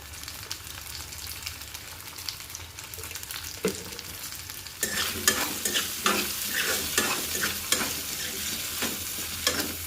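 Taro pieces frying and being stirred in a pan, a soft sizzle that swells louder partway through as scraping stir strokes grow busier and more frequent.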